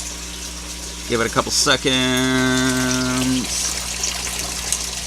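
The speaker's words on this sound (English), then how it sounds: "Dripping a little more." Water trickles and drips in an aquaponic greenhouse system, a soft running flow under a steady mechanical hum, while someone speaks briefly near the start.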